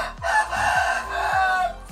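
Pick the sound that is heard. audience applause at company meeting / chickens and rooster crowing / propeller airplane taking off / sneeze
chickens and rooster crowing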